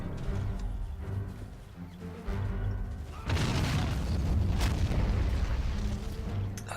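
Tank cannon shot striking a Panzer turret in the Men of War: Assault Squad game, a loud booming blast that swells into a sustained rumbling roar with crackling debris over continuous battlefield noise.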